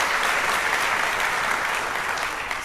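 An audience applauds at a fall welcome address, a dense, steady round of clapping throughout without a break.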